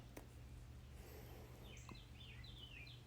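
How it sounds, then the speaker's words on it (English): Birds chirp outside in a few faint, quick sweeping calls, thin and somewhat distant over a steady low hum of the room. "You hear the birds?"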